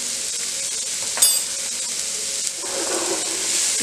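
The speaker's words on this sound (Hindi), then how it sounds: "इसको हमने सॉटे कर लेना है।" Macaroni vegetables sautéing in a pan with salt and black pepper, a steady bright sizzle heard close, with a short clatter near the start and a stirring scrape toward the end.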